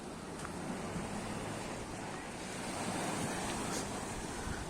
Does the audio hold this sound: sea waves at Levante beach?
yes